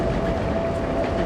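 Narita Express train running in Tokyo, a loud, steady rumble of rolling wheels and carriage noise with a faint sustained tone, continuous throughout and close by, with no voices.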